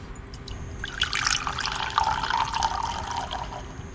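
Water poured from a container in a home, a bright splashing trickle lasting a few seconds, close and moderately loud with a faint background hum.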